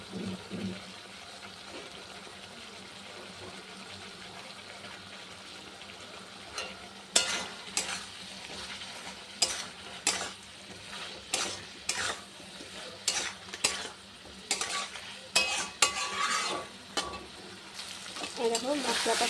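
Pointed gourds fry with spiced masala in a pan under a soft, steady sizzle, joined halfway through by a rhythmic series of loud scraping stirs of a spatula against the pan; no talking.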